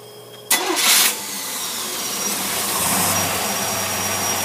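An engine fitted with a Holley 4780-2 double pump carburetor cranks briefly and catches, then settles into a steady, even idle that carries on to the end.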